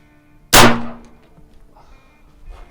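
A single sharp, loud report from a big bore airgun firing through a chronograph, with a sudden onset, a ringing decay lasting about half a second, then quiet room ambience.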